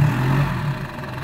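A Toyota Bandeirante engine runs steadily at a low, even idle as its four-wheel drive is engaged, a close and continuous rumble with no voices over it.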